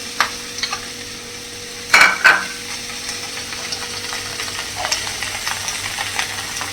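Ginger, garlic and cashews fry in a pan, with a soft continuous sizzle broken by a couple of sharp stirring clanks and scrapes near the start and lighter spoon knocks later.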